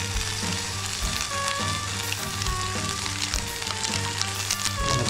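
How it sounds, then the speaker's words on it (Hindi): Onions and tomatoes fry in oil with salt added, giving a loud, continuous sizzle and crackle close to the pan with no talking. "अब जैसे जैसे इसमें नमक डालोगे तो ये तेल छोड़ना शुरू कर देंगे आपके प्याज और टमाटर"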